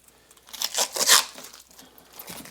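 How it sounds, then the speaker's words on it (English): Plastic wrapping being torn and crinkled off the top of a Vangoa record player, close by, in a couple of loud ripping bursts followed by quieter rustling. "I'll take the plastic off the top of this."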